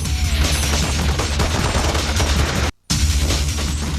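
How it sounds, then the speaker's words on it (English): Dense, loud gunfire in the squad-based shooter game SOCOM 2, continuous rapid automatic bursts layered over low booms, broken by a split-second gap of silence before the firing resumes. "squad-based shooting in SOCOM 2"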